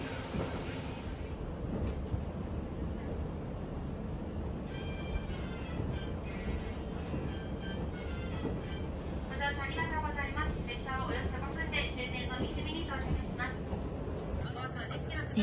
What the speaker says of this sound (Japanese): 列車はあっという間にもう三角駅の周辺を走っています。